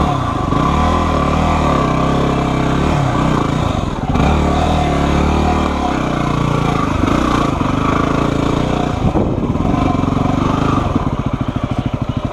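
Dirt bike engine on a rough trail, revved hard and continuously while the clutch is slipped, a loud buzzing drone that rises and dips in pitch over several surges, close to the rider.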